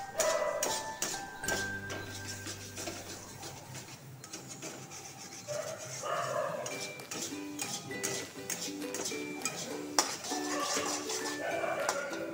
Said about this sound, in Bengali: এখন তেল বেরোলো ভালো ভালো করে নাড়াইতে হয়।